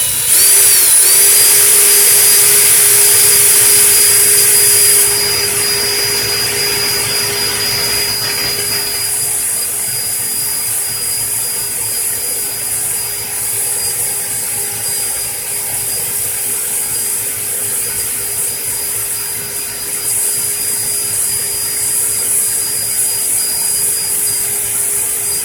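An electric drill whirs loud and steady while winding a wire coil by hand, a high whine dominating the first seconds before easing to a lower, continuous spinning hum with faint mechanical chatter; no talking.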